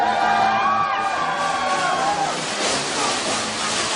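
A live wrestling event crowd cheers and whoops in a loud sustained roar, fading slightly after the first couple of seconds, with a few raised voices over the wash of noise.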